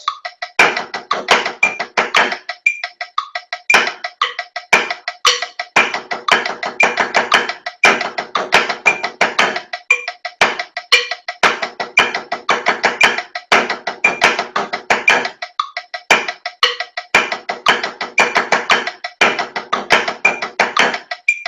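Repeated snare drum buzz strokes played with the left hand in a steady rhythmic pattern, crisp and close, with brief pauses between groups of rolls.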